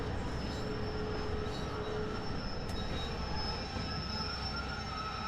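A diesel-electric train running on a Penzance to Truro line in the Train Sim World 2 game, a steady rumbling roll of wheels on track with a faint high whine, continuous and fairly close.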